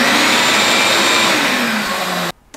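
A shop vac on a CNC coolant tank job runs with a loud, steady whining roar, then cuts off abruptly just before the end.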